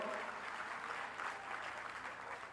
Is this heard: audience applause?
yes